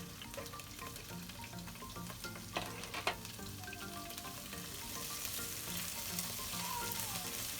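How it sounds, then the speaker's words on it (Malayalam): Onion, garlic, ginger and curry leaves sauté in a pan for a Kerala-style vegetable kurma, a soft continuous sizzle with occasional stirring scrapes and light clinks, close and quiet, no voices. "നമ്മളൊന്ന് വഴറ്റുക"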